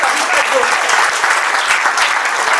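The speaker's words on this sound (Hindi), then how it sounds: "तो एक बार जोरदार तालियां खुद के लिए फिर से बजा लीजिए" Loud, dense applause from an audience at a corporate awards and recognition event, steady clapping filling the whole stretch without a break.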